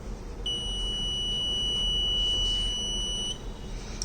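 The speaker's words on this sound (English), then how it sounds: "as well as the buzzer will get switched on" A gas leak sensor's alarm buzzer sounds a steady, piercing electronic tone for about three seconds, starting and stopping abruptly over a faint background hiss.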